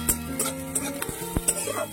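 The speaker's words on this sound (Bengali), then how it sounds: "পেঁয়াজটাও হালকা ভাজবো।" Chopped onions fry lightly in a pan, a soft, steady sizzle near the mic broken by repeated scraping stirs and a few clinks of a utensil against the pan.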